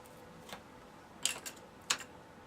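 Scissors or a blade snip a wedge out of a turkey feather, giving a few faint, sharp clicks and cuts in a quiet setting, spaced apart with no talking.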